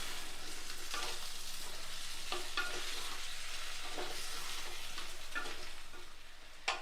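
A spoon stirs chopped tomato into sautéed ginger and garlic in a hot pan for a Kerala vegetarian curry of raw plantain and drumstick. Repeated scraping strokes sound over a steady close sizzle, with no talking.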